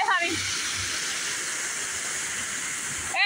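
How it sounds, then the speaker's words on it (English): A big waterfall roars as a steady broadband rush of falling water, loud and continuous throughout, with a brief voice at the very start. "Big waterfall."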